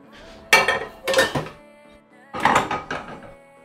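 A kitchen pan is handled and set down as an onion, garlic and thyme stock is started. A few close metallic clanks and clinks come in separate bursts.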